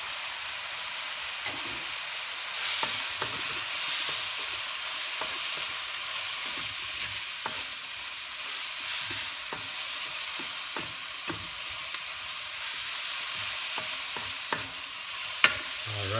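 Onions, garlic and ginger fry in a pan, giving a continuous broadband sizzle with scattered clicks and scrapes of a utensil stirring, steady and close for a long stretch.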